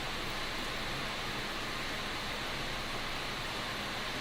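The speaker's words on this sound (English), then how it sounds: "And also a little waterfall sound in there" A video game's waterfall effect plays as a steady, even rush of broadband noise, continuous and moderately loud with no breaks or other sounds.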